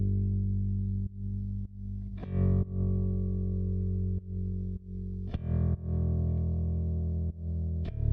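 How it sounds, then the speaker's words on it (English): Long, distorted bass notes in a mix with extreme sidechain compression, ducking sharply in level at each kick drum hit, a steady pumping pattern with no voices. "because the bass is playing long notes, but the kick is still hitting. You can hear it being ducked every time the kick hits."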